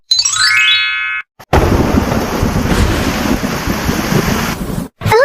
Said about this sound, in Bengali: দেখো না বাইরে কত বৃষ্টি হচ্ছে